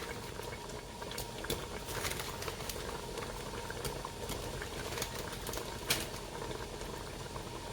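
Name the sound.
liquid boiling in a pot with cinnamon sticks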